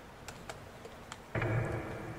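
Computer keyboard keys pressed while playing a beta game, a few light scattered taps followed by a denser burst of clicking near the end, alone with no talk.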